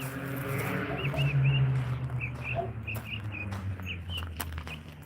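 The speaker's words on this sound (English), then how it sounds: "we got a mockingbird up there singing its heart out" A mockingbird sings from up in shade trees on a farm, producing short repeated chirps and phrases at moderate distance, fairly faint over a steady low rumble and background noise, with no talk.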